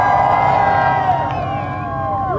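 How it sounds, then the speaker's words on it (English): A crowd cheers loudly and continuously for a blue car at an exhaust-sound competition between BMW M3 and M340i cars, a dense wash of voices with some shouting rising near the end. "So with a cheer, let's go for the blue car."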